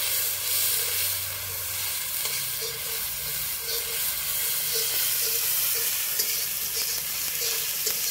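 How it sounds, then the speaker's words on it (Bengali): Ground spice paste hitting hot oil with black cumin, a steady close sizzle and hiss with a spoon stirring through it, continuous for the whole stretch with no voices. "এবারে যে বাটা মশলাটা রেখেছিলাম বাটা মশলাটাকে দিয়ে দেব, দিয়ে ভালো করে নাড়িয়ে নিব"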